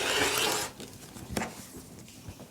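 Scissors or a rotary cutter slice along a quilt's fabric edge beside a ruler, a soft rasping cut for about half a second followed by faint handling and quiet rustles, close and alone.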